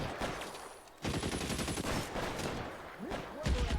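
Rapid gunfire in the video game L.A. Noire, dense bursts of shots crackling loudly from about one second onward, with voices speaking briefly over the shooting near the end.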